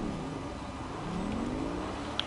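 A car engine in a video game revs, a faint rising whir climbing in pitch over a quiet steady drone, with a small click near the end.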